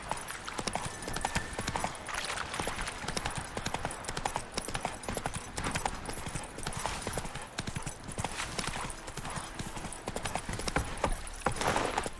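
Rhythmic hoofbeats of a horse galloping steadily through The Witcher 3: The Wild Hunt, loud and continuous with clattering clip-clop and a brief whinny, set against ambient game sound.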